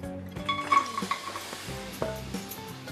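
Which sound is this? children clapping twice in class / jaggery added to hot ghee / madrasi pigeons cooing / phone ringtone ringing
jaggery added to hot ghee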